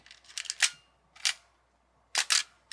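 Nikon film camera, an F3 among others, with no film loaded, giving close, crisp mechanical clicks and short ratcheting film-advance winds: a quick cluster, then a single snap, then a final pair of sharp shutter releases.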